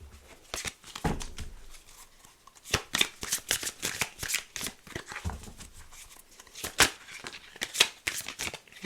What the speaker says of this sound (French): On va faire un tirage en 5 cartes